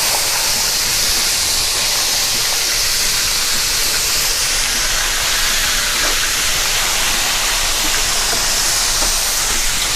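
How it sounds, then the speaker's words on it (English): Chicken pieces frying in hot oil for a soul food fried rice dish, giving a loud, continuous bright sizzle and crackle that holds steady with no talking. "Our chicken is frying up really"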